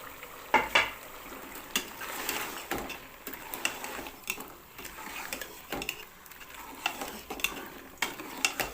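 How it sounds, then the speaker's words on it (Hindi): Mutton with drumsticks fries in a pot while a spoon stirs and scrapes against the metal, soft sizzling under irregular clinks and knocks, close by with no talking. "और उसको तकरीबन 2-3-4 मिनट में भुनाई करूँगा।"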